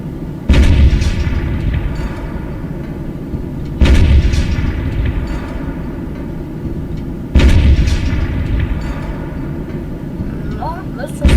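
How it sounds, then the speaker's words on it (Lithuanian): In the Teardown video game, a house is bombed with three loud booming explosions spaced a few seconds apart. Each blast leaves a long rumbling decay, and a voice talks in the background. "Taip, mums reikia bombarduoti šitą namą."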